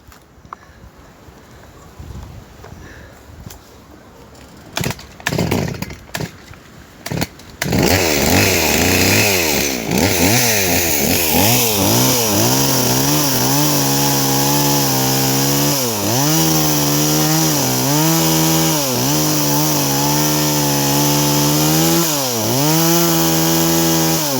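A Stihl 017 chainsaw, due for repair, sputters through a few rough starts, then settles into a loud, steady run, revving up and down repeatedly as it idles and bites into wood, close by, with no talking.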